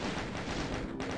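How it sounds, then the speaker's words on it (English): Sustained automatic chain gun fire in Doom II, a dense continuous roar of rapid shots at steady volume with a brief dip near the end, no voices over it. "So I just use the chain gun"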